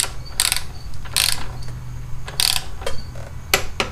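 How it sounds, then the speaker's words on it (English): A torque wrench ratcheting as it tightens the front brake caliper bolts on a 1984 Honda Shadow 500 motorcycle, five or six sharp bursts of clicking at close range with short pauses between, no speech. "Tightening the front brake caliper bolts to 25 foot-pounds"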